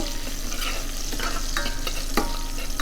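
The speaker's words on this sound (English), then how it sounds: "Now we're rendering the bacon." Bacon rendering in a pan with a little olive oil, a steady dense sizzle and crackle with scattered pops and utensil scrapes throughout, close and loud, with no talking.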